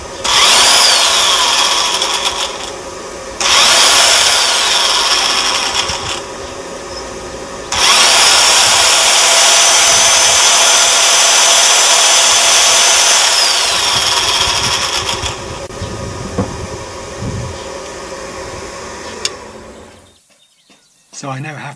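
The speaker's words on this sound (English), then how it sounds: "the drill works as if it's plugged into the mains" A power drill powered through an inverter from a solar-charged battery whines loudly in several long bursts, with a noisy inverter fan humming beneath and a voice speaking between runs.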